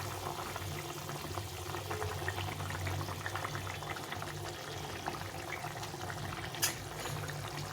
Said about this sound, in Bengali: ঝোলটা ফুটে গেছে, এখন মাছগুলো ছেড়ে দেবো